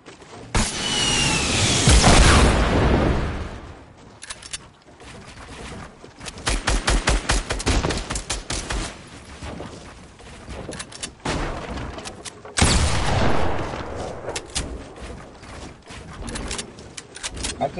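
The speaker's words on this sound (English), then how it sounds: "Oh, he's shooting back." Bursts of rapid automatic gunfire fill a video game firefight as an enemy shoots back, with loud clustered volleys, short pauses and renewed rattling exchanges.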